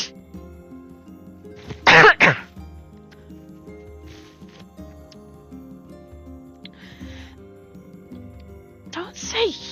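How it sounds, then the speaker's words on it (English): A couple of harsh, wet, mucus-filled coughs burst out close by in the game Nier Replicant, followed later by another rough cough, with quieter voice-like murmuring in between. "I love those gross, mucusy coughs."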